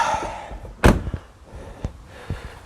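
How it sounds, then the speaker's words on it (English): The bonnet flap of an Audi A2 is opened by hand, giving one sharp close thunk followed by a few lighter knocks and clicks. "So I'm going to open a little bonnet flap now."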